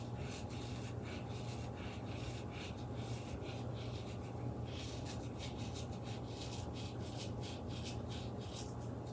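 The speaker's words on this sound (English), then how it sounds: "I'm gonna do the same thing with the thyme. I'm gonna rub it so maybe it'll be a little bit smaller." Dried thyme is rubbed between the hands to crumble it, a close, steady dry rustling and scratching that continues without pause and with no voices.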